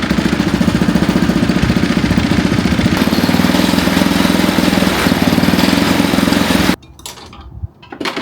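A freshly fitted OTK go-kart engine running loudly and steadily just after its first start, a rattly mechanical drone with rapid firing pulses that cuts off sharply near the end, leaving a quieter fading rumble.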